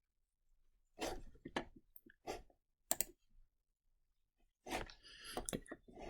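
A computer mouse clicks sharply several times while working in CREO CAD software, the crisp clicks spaced out and close, with a few faint softer sounds between them.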